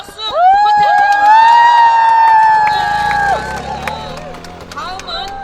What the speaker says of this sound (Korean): 환호와 함께 큰 박수 부탁드립니다